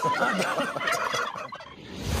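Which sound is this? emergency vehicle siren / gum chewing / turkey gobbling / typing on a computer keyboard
turkey gobbling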